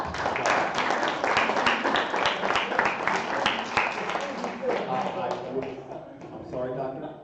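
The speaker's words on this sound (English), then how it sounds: "A round of applause again." Dense, steady applause from a crowd at a mayoral town hall in Dunellen, continuous clapping filling the room for several seconds before tapering slightly at the end.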